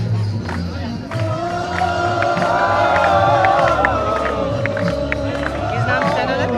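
A crowd of Gen-Z protesters gathered at Jantar Mantar, a dense roar of many voices shouting and chanting with cheers, continuous and close, with people talking through it.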